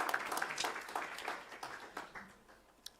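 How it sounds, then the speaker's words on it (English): An audience at the 2024 Risk Champion Awards claps for a leader, fairly faint and distant, the applause thinning and tapering off with a last isolated clap near the end. "Let's give Dr. Mlapo a round of applause"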